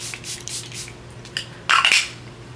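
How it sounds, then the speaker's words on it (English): A handheld spray bottle mists water onto a face in a few short, airy hissing puffs, the strongest near the end, heard close up in a quiet room. "let me spray my face"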